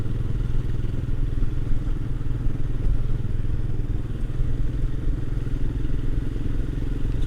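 Royal Enfield Himalayan motorcycle cruising steadily in top gear on Welsh roads, a continuous low engine drone with wind rumble, close and loud without pause.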